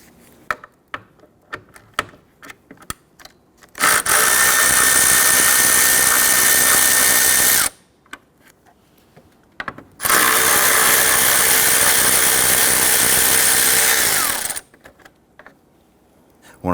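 A power tool whirs in two long bursts while 10mm bolts come off the air intake tube of a 2017-2020 Hyundai Elantra 2.0L, with scattered clicks and clanks of handling before, between and after.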